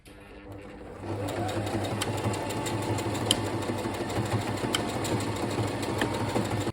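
An electric sewing machine stitches a long strip of obi fabric about a centimeter in from the interfacing, with a steady continuous hum and rapid needle clatter that starts after a second and runs on evenly throughout.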